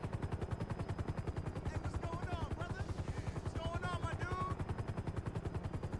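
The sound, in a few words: helicopter in video game GTA Online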